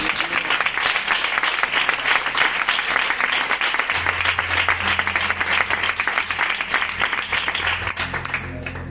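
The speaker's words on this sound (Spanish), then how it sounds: "¿Cuántos dan un fuerte aplauso al Señor?" A church congregation gives loud, sustained applause, a thick continuous clatter of many hands lasting several seconds, with a low bass note entering partway through.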